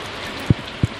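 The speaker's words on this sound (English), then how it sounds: "Oh, sounds like rain." Rain falls steadily in the farming game Stardew Valley, a soft continuous hiss broken by two short low thumps, with no talking.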